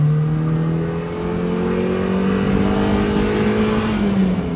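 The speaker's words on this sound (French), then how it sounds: "tu sens que le moteur il hurle" A Mazda MX-5 NBFL engine revs hard toward 7000 rpm, a steady, loud, rising whine with a sustained tone and no talk.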